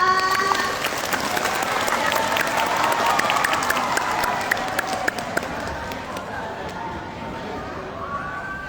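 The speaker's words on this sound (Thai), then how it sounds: "ขอเสียงปรบมือต้อนรับ" A school auditorium audience applauds to welcome a speaker at a TED-style student talk event; dense, steady clapping fills the space for several seconds with a faint crowd murmur beneath, easing slightly toward the end.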